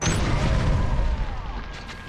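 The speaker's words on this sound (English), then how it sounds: "I'm gonna take these two guys out with a grenade." A grenade explodes in the Killzone: Mercenary shooter, a loud close deep boom whose low rumble lingers and slowly fades over about two seconds.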